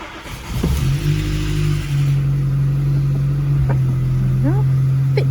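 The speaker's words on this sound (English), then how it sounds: "I'll just take the immobilizer off, ignition on, out of gear, put a bit of choke on because it's quite chilly" A Volkswagen Scirocco engine starts on choke on a chilly day, cranking briefly before catching and settling into a steady, loud, close high idle with a slight revving rise.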